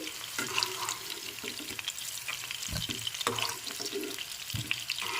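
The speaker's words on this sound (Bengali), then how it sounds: "একটু নেড়ে করে ভেজে নিচ্ছি কপিগুলো" Cauliflower pieces sizzling in hot oil while being stirred, a steady close frying hiss broken by repeated scraping strokes of a spatula against the pan, with no talking.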